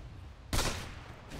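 Video game gunfire: a single loud, sharp shot bursts out midway and rings off into a decaying tail, with quieter background noise before and after and no speech.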